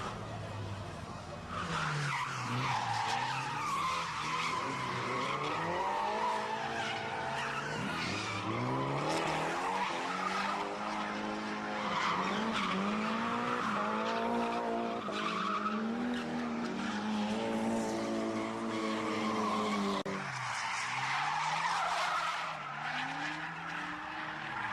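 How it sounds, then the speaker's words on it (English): A front-wheel-drive Daihatsu slides through a big street corner at Nanko, its tires squealing and skidding almost continuously with engine revs rising and falling, loud and close throughout. "trying to drift on a big corner like that with the front drive is not easy"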